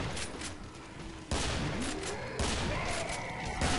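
Rapid gunfire rattles in the video game Killing Floor, dense bursts of shots that surge and restart several times without a break.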